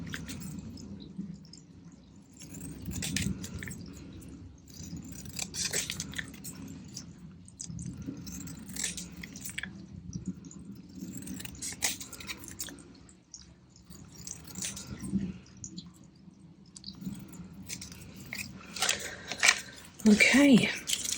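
Scissors cut out a paper hexagon for a craft project, with soft, close snips and paper rustles repeating at an uneven pace against a quiet room background.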